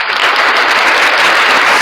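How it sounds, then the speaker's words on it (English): Audience applause at a talk show taping, a loud dense wash of clapping holding steady throughout the short burst. "A quick round of applause."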